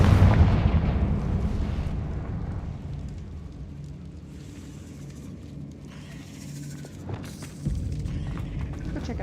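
A Confringo blasting spell explodes in Hogwarts Legacy: a heavy boom opens, fading into a low rumbling tail, followed by quieter game ambience and another thump near the end.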